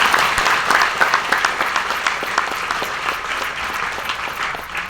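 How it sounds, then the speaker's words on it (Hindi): An audience at a business meeting gives loud applause to welcome newcomers, with individual claps standing out within a crowded, fairly close clatter that thins slightly toward the end. "जोरदार तालियों के साथ वेलकम करना चाहूंगा"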